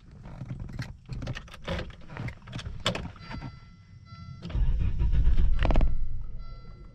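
A 1996 Volvo 850R engine cranks with clicks and whirs, then catches around the midpoint and settles into a loud, steady idle rumble close by, with no talk over it.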